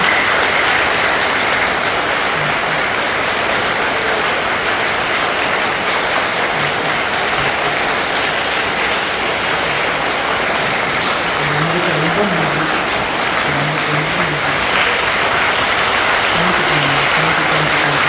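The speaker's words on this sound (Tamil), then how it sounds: "ரொம்ப ரொம்ப பிடிச்சிருந்தா நிறைய கிளாப் பண்ணுங்கள்." A group of children claps their hands in a long, dense burst of applause that stays steady and loud throughout, with faint voices mixed in.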